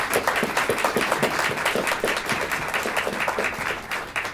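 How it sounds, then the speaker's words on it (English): Dense, steady applause from a panel discussion audience, many hands clapping together at close range, holding an even level through the whole stretch with no voices standing out. "I hope you'll join me right now in one more round of applause for my wonderful panel."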